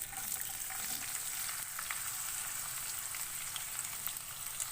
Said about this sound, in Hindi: प्याज को हल्का गोल्डन ब्राउन होने तक फ्राई करेंगे।